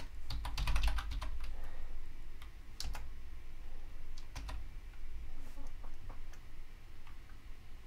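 Typing on a computer keyboard in a Mac terminal: scattered light key clicks, a quick cluster at the start, then irregular taps and pauses, close and quiet with no talk.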